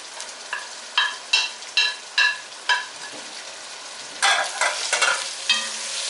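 Tomato tipped into a hot frying pan and stirred, several quick scraping strokes in a steady rhythm, then a louder burst of close sizzling as the mixture is turned.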